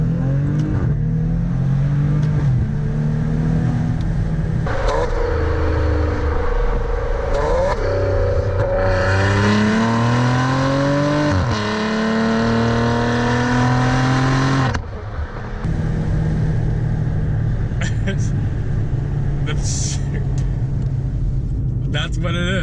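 A Maserati Levante SQ4 SUV engine revs loudly through its exhaust, with repeated rising and falling blips, a long sustained rev in the middle and a deep idle rumble between them.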